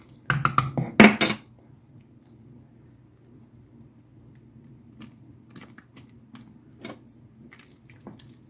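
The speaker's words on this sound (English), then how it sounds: "Stir them around a little bit." A spoon clatters against a pot in a short burst of scraping and clinking while ingredients are stirred in broth. A few scattered soft knocks follow over a low background hum.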